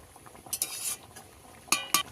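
A spoon moves gently through a pot of fish curry with potato and taro, giving a few light scrapes and clinks against the pot, with a quiet bubbling simmer underneath.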